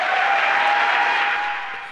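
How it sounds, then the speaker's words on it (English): Applause at SpaceX Mission Control as the capsule splashes down, a steady wash of clapping that fades slightly toward the end. "Applause was heard from Mission Control as the SpaceX capsule parachuted into calm seas shortly before sunset."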